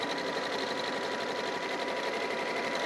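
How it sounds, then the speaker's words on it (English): A sewing machine runs steadily along a fabric seam, a continuous close whirring with fine rapid needle rhythm and no pauses. "just sewing, allowing the side of my machine foot to run along that seam line there"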